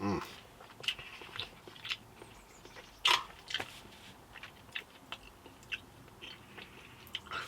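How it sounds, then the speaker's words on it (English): Close, crisp chewing and slurping of Ko Lee Korean kimchi instant noodles, with irregular moist bites and crunches over faint room noise. "let me chew through these"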